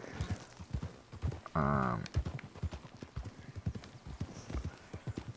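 Horse hooves clip-clop at a steady walking rhythm while riding in Red Dead Redemption 2, close and clear, with a horse's brief whinny partway through and a voice talking throughout.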